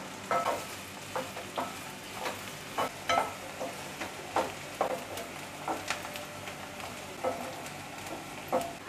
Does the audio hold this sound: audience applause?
no